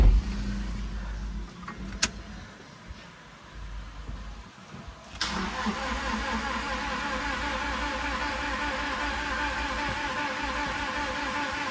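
A Toyota Fortuner that won't start: the starter cranks in short bursts with a couple of clicks, then a continuous hum or whir runs on steadily without the engine catching.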